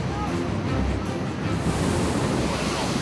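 Large ocean waves breaking on a beach, a continuous loud roar of surf and wash with wind buffeting the microphone, swelling slightly toward the end.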